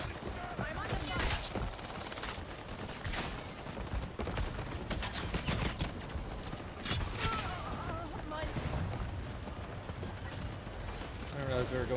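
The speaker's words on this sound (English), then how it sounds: "Someone's shooting me." Rapid bursts of video game gunfire crackle through a busy, dense mix of game sounds and hoofbeat-like thuds, with a voice talking over the action.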